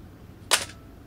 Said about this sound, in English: Okay, so the shutter's working on all settings.